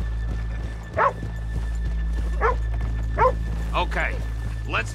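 Horses in the video game Red Dead Redemption 2 give a few short snorting or whinnying bursts over a steady low hum, with people talking nearby.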